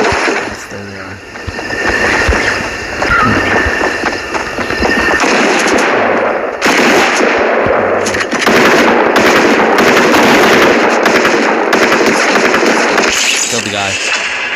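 Gunfire in a video game rattles on almost nonstop: loud, dense bursts of rapid shots that sound like automatic weapons, with sharper single cracks mixed in, while a player talks over the shooting.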